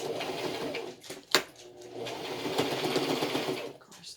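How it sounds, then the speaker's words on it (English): A sewing machine stitches the side pieces of a homemade HEPA-filter face mask, a close, steady mechanical whirr with a brief clunk partway through before the stitching resumes. "I need to go on ahead and sew off these little side pieces"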